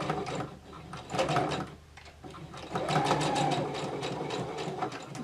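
A sewing machine stitches fabric for a small sewn toy with a fast, continuous whirring chatter. It slows briefly near the two-second mark, then runs steadily again, fairly close and moderately quiet.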